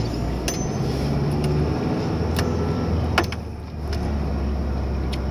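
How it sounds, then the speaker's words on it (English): A truck engine idles steadily and close by in a parking lot, with a continuous low rumble and a few brief clicks and knocks on top, and no one talking. "I don't know if you guys can hear my truck or not,"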